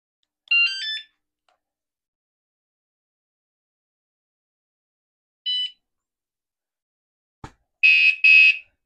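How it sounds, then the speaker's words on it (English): An electronic bicycle or e-bike alarm gives short, shrill chirping bursts, with a long silent gap between them and a sharp click before a final louder double burst. "I'm gonna turn the alarm on."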